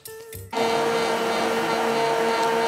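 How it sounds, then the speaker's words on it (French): A blender whirs loudly as it purées a cooked, reduced panna cotta mixture, starting abruptly after a short quiet moment and then running steadily at high speed with no one speaking. "et on va le mixer."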